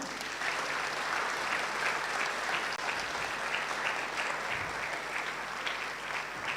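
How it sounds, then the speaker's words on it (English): Sustained audience applause at a graduation ceremony runs steadily for the whole stretch, a dense, even wash of many hands clapping at moderate distance with no talk over it. "I want us to give a round of applause to everyone who has received a certificate one."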